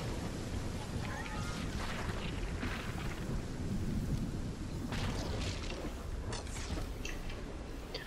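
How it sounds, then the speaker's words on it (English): Storm ambience from the video game Fortnite, with steady rain hiss, rolling thunder and occasional creaking mechanisms, continuous and fairly even throughout. "storm's gonna get pretty bad in a little bit here"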